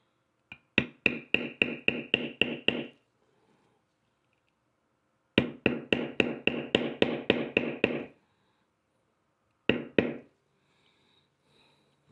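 Leather is beveled with a tooling hammer in quick runs of sharp taps, about eight evenly spaced strikes per burst, with two long bursts separated by quiet and a final short pair of taps.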